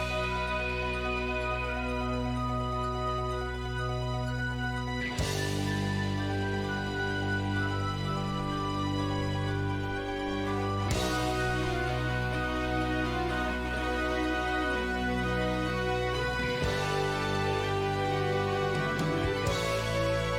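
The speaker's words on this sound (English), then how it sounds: "It almost sounds like this medieval style melody" Progressive metal plays loud and continuous, with dense synthesizer layers carrying a medieval-style melody over heavy guitars and drums, punctuated by sharp hits and section changes.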